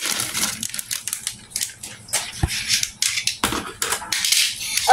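Plastic wrapping being pulled and torn off the parts of a toy circuit space station kit, heard as close, irregular crinkling and crackling with sharp tearing bursts.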